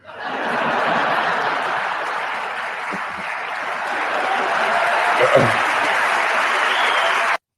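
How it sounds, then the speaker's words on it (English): Studio audience applauding steadily with scattered chuckles and laughter mixed in, a dense continuous crowd sound that holds at a loud, even level for several seconds before cutting off. "Listen to all them people clapping and laughing"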